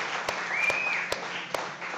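An audience at a chef cooking competition applauds a chef, a moderate wash of clapping with a few sharp, distinct claps standing out close by.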